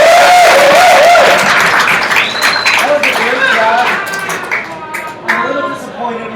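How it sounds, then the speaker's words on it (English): An audience at a stand-up comedy set applauds heavily, the clapping swelling and then thinning out, while a performer's voice and scattered cheers rise above it. "One more round of applause."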